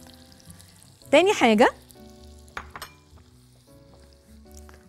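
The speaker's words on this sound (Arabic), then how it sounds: "فهحط هنا لسان العصفور مع الزيت والزبدة." Orzo sizzles gently in a mix of oil and butter, a soft, low background hiss with a few light clicks, briefly covered by a short spoken phrase near the start.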